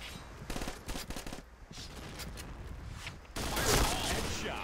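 Rapid bursts of gunfire from the first-person shooter Point Blank, clattering automatic volleys close up with a denser, louder barrage at the end, over continuous game noise.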